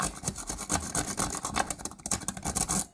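A Goso lock pick rake scrubs rapidly in and out of a lock, giving a busy run of scratchy, metallic rasping strokes at close range with no voices.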